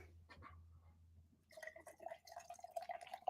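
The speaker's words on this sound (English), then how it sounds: "I'm just pouring a drink." A drink is poured indoors: after a quiet start with a low hum, liquid trickles and splashes steadily, softly at first and then louder and more bubbly.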